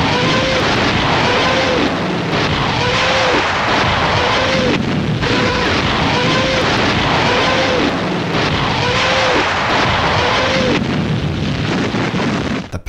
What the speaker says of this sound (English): the infamous sound of the rocket engines